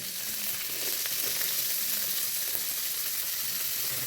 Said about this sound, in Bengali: আমি এবারে এই ফুলকপি, ব্রোকলি আর স্প্রিং অনিয়ন দিয়ে একটুখানি সতে করে নেব